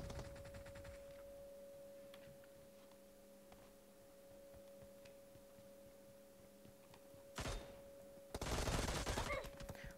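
Gunfire in the video game PUBG: two short, loud bursts of rapid shots near the end, over a steady electronic hum and faint ticking.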